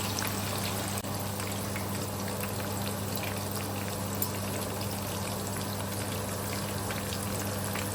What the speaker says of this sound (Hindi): अब इसे 10 से 15 मिनट लगेंगे फ्राई होने में